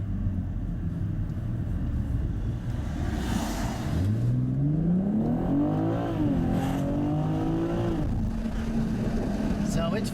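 A 2021 BMW M440i xDrive in Sport mode pulls away from a stop at full throttle, its engine rising steadily through the revs with a shift and then climbing again, heard from inside the cabin over steady road rumble.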